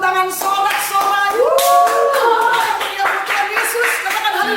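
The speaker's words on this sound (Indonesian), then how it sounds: "Kita berikan tepuk tangan sorak-sorai." A church congregation applauds and cheers during a Sunday worship service, with steady clapping and voices rising over it, some speech and laughter mixed in.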